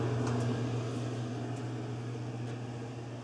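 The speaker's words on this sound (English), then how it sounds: "See if we can start up our dryer." A clothes dryer starting up on off-grid inverter power, giving a steady, fairly loud mechanical hum and whir with a low drone and faint ticks, continuous throughout with no speech.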